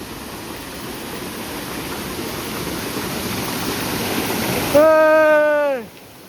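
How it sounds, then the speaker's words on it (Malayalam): Continuous rushing roar of a waterfall on a rainy day, steady and broad, swelling slightly before a voice briefly cuts in near the end. "അവിടുന്ന് നേരെ വെള്ളം ഒഴുകി ഇങ്ങനെ വരുന്നു."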